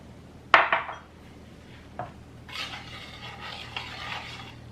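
Shrimp ceviche ingredients being mixed in a bowl: a sharp utensil clink and a short scrape, a lighter tap, then a softer wet stirring rustle, close and otherwise quiet.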